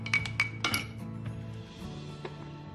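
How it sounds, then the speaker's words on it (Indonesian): A spoon stirring in a dish produces a quick cluster of bright metallic clinks and scrapes, then a few softer taps against the rim, close and fairly quiet. "Aduk."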